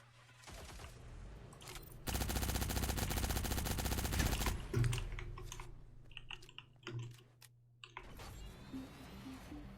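Rapid automatic gunfire from a weapon in the video game Cyber Hunter, a loud sustained burst of about two and a half seconds followed by scattered shots and game effects at lower level.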